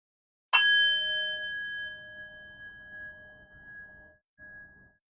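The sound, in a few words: meditation bell ringing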